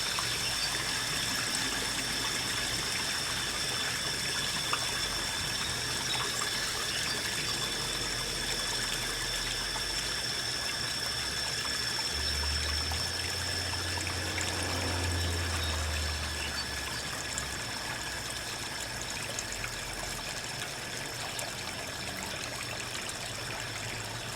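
Water drains steadily from a pool filter during its first backwash of the year, a continuous trickling, gushing flow heard up close for a long stretch, with a low rumble partway through and no speech.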